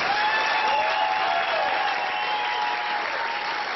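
Sustained crowd applause for torch runners at a Special Olympics Nebraska welcome, dense and even throughout, with a faint tone running underneath and no speech.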